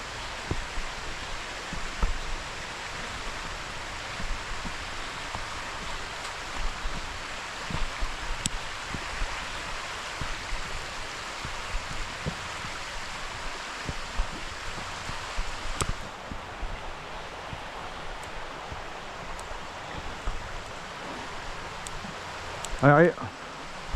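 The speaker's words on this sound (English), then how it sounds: "the waterfalls come down, drop down, get pushed through a skinny gully" A waterfall tumbling through a narrow gully into a big pool outdoors, a steady broadband rush of water heard from a distance for the whole stretch, with occasional faint handling noises and a voice speaking over it.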